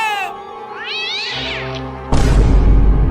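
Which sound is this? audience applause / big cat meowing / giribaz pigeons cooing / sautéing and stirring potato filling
big cat meowing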